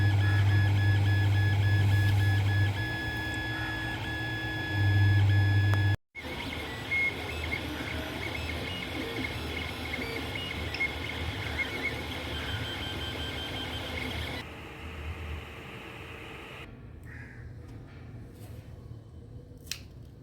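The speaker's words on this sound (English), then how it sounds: "finally printing it with my 3D printer." Mechanical whirring and stepping of a 3D printer printing parts for a mini car air conditioner, with tonal motor whines and rhythmic buzzing, steady and close, fading quieter near the end.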